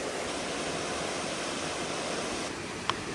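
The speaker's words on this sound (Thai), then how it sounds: "อันนี้ลำธารที่สามนะคะ" Forest stream on a solo hike in Doi Langka Noi, water rushing in a steady, moderate hiss from nearby, with one faint short tap near the end.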